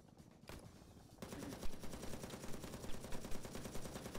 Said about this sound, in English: Oh shit, the guy's shooting through there.